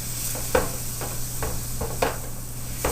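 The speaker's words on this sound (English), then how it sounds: "you want to hear that sizzle" Butter sizzles and crackles steadily as it melts in a hot pan, with occasional scraping stirs punctuating the continuous hiss.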